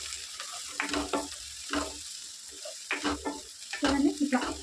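Green chillies and onions frying in a pan for a sprouted fenugreek curry, with soft sizzling broken up by repeated bursts of stirring and scraping, moderately close and fairly quiet throughout.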